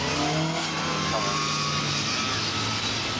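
Saloon cars race through the North End hairpin at Lydden Hill, their engines droning and revving steadily at a moderate distance, with commentary running over the top.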